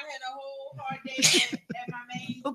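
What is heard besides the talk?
sneeze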